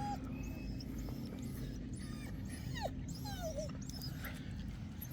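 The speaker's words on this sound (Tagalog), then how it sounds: "Sinama na po natin yung ating alaga, si Cholo." Pet dog Cholo at Laiya beach whimpers and yips in short, faint high cries over a steady wash of surf and wind.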